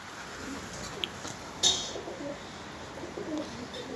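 A sick stray pigeon gives soft, faint cooing calls over a quiet background, with a brief sharper burst partway through.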